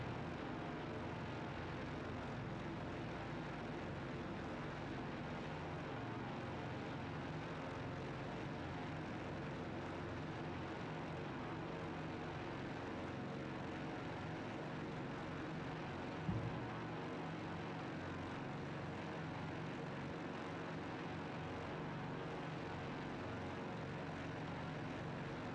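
A 1935 Boeing 247D twin propeller airliner drones steadily in flight, its radial engines holding a constant, loud, even hum throughout with no talking.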